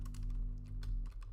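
Computer keyboard keys are struck in a quick irregular run of crisp clicks over a steady low electrical hum, close and moderately quiet, with no voices.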